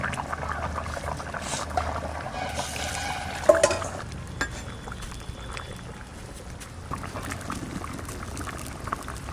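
Pieces of snakehead fish drop into a pot of simmering curry made with garden pumpkin and fish head, with steady bubbling and stirring. A brief splash stands out mid-clip, and no one speaks.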